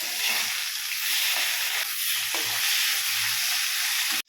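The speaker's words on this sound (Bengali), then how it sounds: "আজকে মাছ রান্না করবো, মাছ ভাজা বসিয়েছি" Fish frying in a pan on a home stove gives a loud, steady broadband sizzle and hiss that runs unbroken, with faint low background sounds beneath and an abrupt cut near the end.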